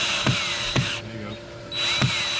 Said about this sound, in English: Probably need a better drill bit anyway.